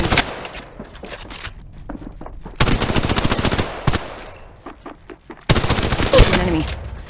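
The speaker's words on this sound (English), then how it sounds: "Shots fired and they're hitting me" Automatic and single gunshots from a fast-paced ranked shooter video game match, rapid bursts in several loud clusters with brief pauses between, close and dense, with no voice over them.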